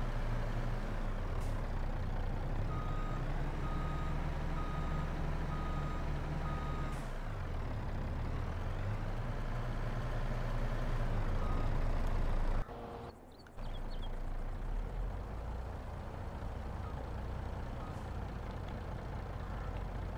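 A truck in the Farming Simulator 22 farming game reverses with repeated evenly spaced beeps over a deep engine rumble, with a short air-brake hiss and a momentary dip before the engine resumes.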